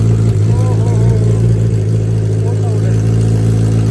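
Suzuki Hayabusa Gen3 motorcycle, decat with straight-pipe exhaust and headers, idling loud and close with a steady deep rumble and slight revving, voices talking over it.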